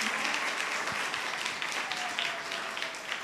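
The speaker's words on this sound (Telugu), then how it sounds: "చప్పట్లు కొడదాం" A church congregation at a Sunday service breaks into dense, continuous applause, a broad wash of many hands clapping together that stays even and fairly near for a few seconds before easing slightly, with faint voices underneath.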